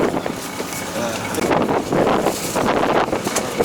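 Strong wind gusts buffet the microphone at a seaside rockfish fishing spot, a loud, steady roar with surging bursts and no break.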